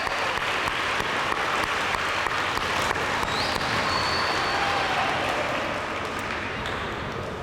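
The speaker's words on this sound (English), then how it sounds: "So let's give a big round of applause." At an elementary school, an audience claps for the pre-K teachers in a steady, full round of applause that lasts throughout and fades a little near the close.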